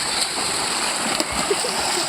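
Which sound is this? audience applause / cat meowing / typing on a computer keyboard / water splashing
water splashing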